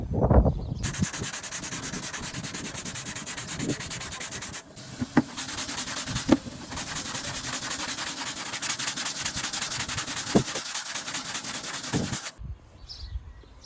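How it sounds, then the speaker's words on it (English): Steady, close abrasive sanding of body filler putty on an MK3 Supra drift car body being prepared for paint, a continuous rhythmic scratching that runs for about twelve seconds with brief pauses, then stops abruptly; no talking. "I got all those sanded."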